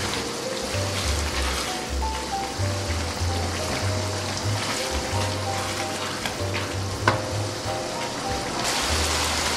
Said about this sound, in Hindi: और अब तेज आंच पर ही मैं इस तमाम दही के पानी को खुश्क कर लूंगी।